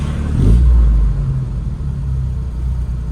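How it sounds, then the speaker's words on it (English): A Lotus Elan carburettor engine blips up with a rev and then hangs at elevated idle instead of dropping back, a steady close mechanical hum lingering after the rise. "You see, the revs are hanging."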